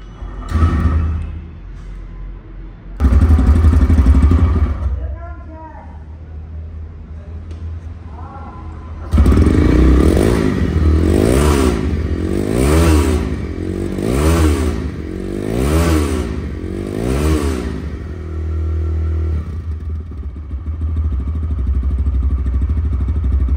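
A 2023 TVS Raider motorcycle engine in showroom condition idles, then revs in a series of about seven rising and falling throttle blips, loud and close, with a short pause early on.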